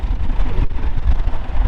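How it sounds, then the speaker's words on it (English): Strong wind buffets the microphone outdoors on a farm, a loud, continuous low rumble and roar with no talking. "it is very windy"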